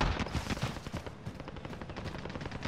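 Gunfire in Call of Duty Modern Warfare comes as a rapid string of sharp, close shots, each a loud clipped crack over continuous game noise.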